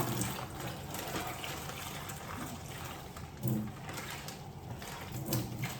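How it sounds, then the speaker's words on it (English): Water runs steadily from a kitchen tap while a plastic bag is rinsed out, a continuous close rushing splash with a few brief louder gushes, no talking. "I'm rinsing out the bag just because it's cleaner when I put it in the trash"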